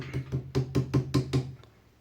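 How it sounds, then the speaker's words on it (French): A small hammer taps a plastic piece against the ring of a KitchenAid stand mixer: seven light, evenly spaced knocks close by, then a faint final tap as the sound fades. "Vous prenez un tout petit marteau. Pas besoin de forcer ou de taper fort. Et vous faites ça."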